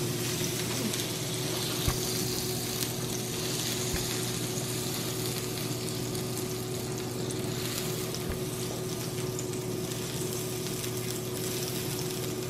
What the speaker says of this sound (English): So you want to get your butter melted on your griddle or your frying pan.